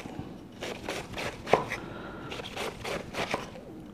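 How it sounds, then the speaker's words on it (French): Chinese cabbage being finely chopped with a knife on a board, a run of quick, soft, close cuts in short bursts with pauses, fairly quiet. "Pendant ce temps-là, je coupe du chou finement."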